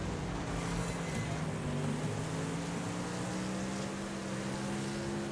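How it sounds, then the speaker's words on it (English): The Speedbird race car engine in the video game Wreckfest drones steadily like a NASCAR stock car, its pitch slowly climbing, with a constant roar and no voices. "I like the Speedbird's engine because it sounds like a NASCAR."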